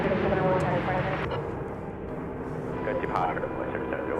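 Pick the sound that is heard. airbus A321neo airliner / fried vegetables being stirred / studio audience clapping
airbus A321neo airliner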